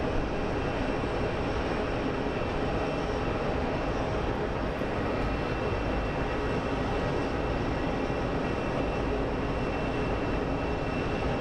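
Airliner taxiing slowly at Phoenix Sky Harbor International Airport, a steady distant engine rumble and whine that holds evenly throughout, with no talk.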